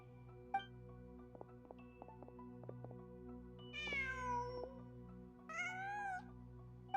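A cat in the Genshin Impact video game meows twice, two clear drawn-out calls over a quiet game background with soft plucked music.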